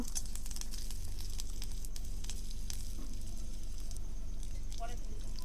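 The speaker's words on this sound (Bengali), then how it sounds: "এবার কড়াতে যে তেলটা অবশিষ্ট ছিল তার মধ্যে আমি 5 ফোড়ন, একটা শুকনো লঙ্কা আর একটা কাঁচা লঙ্কা দিয়ে দিলাম।" Five-spice seeds with dried and fresh green chillies frying in oil in a wok give a steady, close crackling sizzle with scattered pops throughout.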